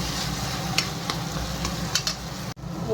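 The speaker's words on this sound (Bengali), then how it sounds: "এই যে বেগুনটা আর একটু ভালো করে ভাজতে হবে এরকমভাবে" Mashed eggplant bharta fries in a pan with spices, a continuous close sizzle punctuated by sharp scrapes and taps of a spatula, then a sudden brief drop near the end.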